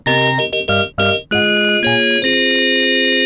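Bright, buzzy looped modular synthesizer waveform tones play a few short stabs, then hold steady sustained notes that shift pitch, with a harmonically rich, static timbre.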